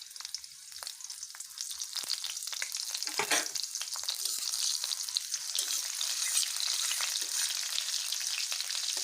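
Spices and green chilies crackle and sizzle steadily in hot tempering oil, a close, continuous hiss with small popping bursts and occasional stirring.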